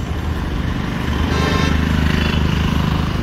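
Motorcycle riding through traffic, its engine buzzing loud and close with a rough, throbbing low rumble that rises slightly as it pulls away, no voices over it.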